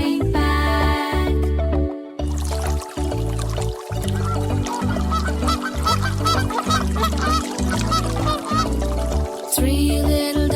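Cartoonish duck quacks sound in a steady rhythm over a bouncy children's nursery rhyme tune, repeated honking calls that stay loud and close throughout the song.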